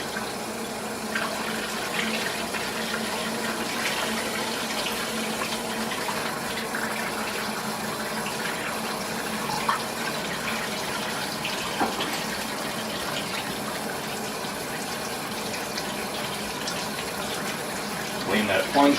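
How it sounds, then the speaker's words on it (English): Warm water runs steadily from a kitchen tap while a syringe is rinsed of chocolate, a continuous close gushing stream with faint clinks and a voice talking over it at moments. "Get the warm water running and get the chocolate out of the needle part here before it solidifies."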